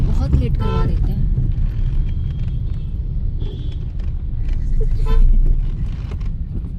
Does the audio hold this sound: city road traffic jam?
yes